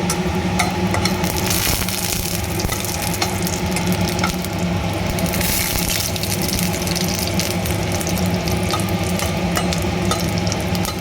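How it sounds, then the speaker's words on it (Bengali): Lentil dumplings (bori) frying in hot oil in a pan, giving a dense, continuous crackling sizzle with a constant bubbling hiss throughout, close and fairly loud, no voices. "তেল গরম হয়ে গেছে, এবার দিয়ে দেবো আমি বড়িটা প্রথমে একটু ভেজে তুলে নেব"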